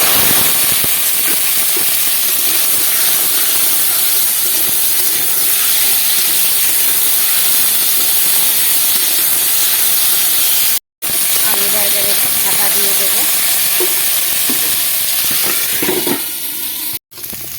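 Potatoes fry in hot oil with a loud, steady sizzling hiss that runs almost without a break, while household sounds clatter faintly underneath.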